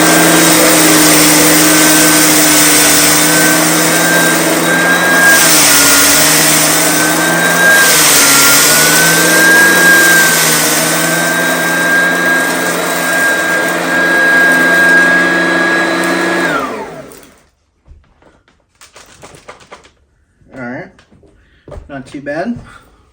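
An Oreck XL2 40th Anniversary Edition bagged upright vacuum runs loud and steady over carpet with a whining motor tone, then shuts off and winds down, leaving faint handling noises.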